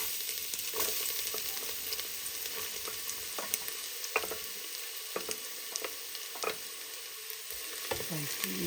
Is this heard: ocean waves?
no